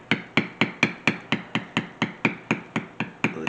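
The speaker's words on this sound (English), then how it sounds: "keep your taps on your hammer, your mallet" A mallet taps a bevel tool on leather in a steady, even rhythm, about fourteen crisp close strikes in quick succession with no speech.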